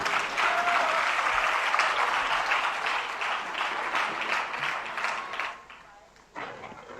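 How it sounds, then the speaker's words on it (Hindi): An audience applauds at a Jain community gathering with dense, loud clapping that fades toward the end, then briefly picks up again. "जरा जोरदार तालियां पारस जी भाई साहब के लिए।"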